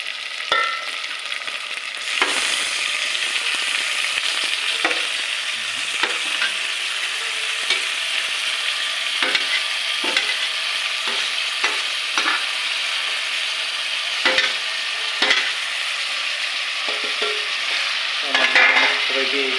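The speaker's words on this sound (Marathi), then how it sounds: "फायनली आता आपण मटण शिजवायला टाकतो आहे" Mutton frying in a spiced tempering, stirred with steady scrapes and clinks over a continuous close sizzle, with no talk.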